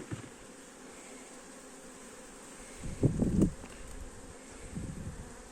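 Honeybees in a hive weakened by cold, a faint continuous buzzing hum with a louder close burst of buzzing midway and another softer swell later.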